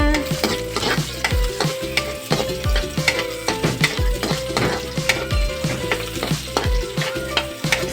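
Onions sautéing in a hot pan with steady frying crackle, punctuated by rhythmic scrapes and knocks of a spoon stirring against the pan, close and loud with no voices.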